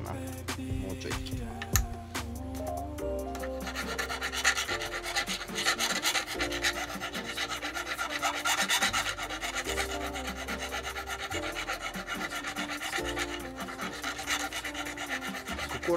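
A small stone is filed and shaved by hand to fit a metal setting, giving a continuous close rasping and rubbing that carries on steadily, with faint talk at moments.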